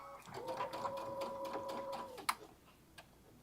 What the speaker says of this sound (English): And again, gently sew over those pins.